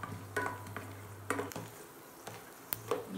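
Peanuts fry in oil in a pan, a soft sizzle broken by scattered crackles and the scrape of a spoon stirring, with no one speaking.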